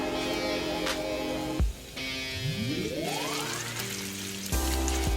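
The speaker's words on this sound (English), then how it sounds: "Once you get the bubbling like that, you know that fat's rendering down almost all the way." Bacon fat bubbles and sizzles as it renders down in a pot over high heat, a continuous crackling fizz with occasional shifts and clanks, moderately quiet and without talk.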